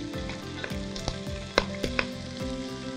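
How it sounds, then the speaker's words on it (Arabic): Onion with whole spices such as dried lime, cardamom, cinnamon and bay leaf sautéing in olive oil, a steady close crackling sizzle with occasional utensil clicks and scrapes. "والتشويحه دي في الزيت الزيتون كده هتخلي كل البهارات الصحيه دي تطلع الطعم بتاعها"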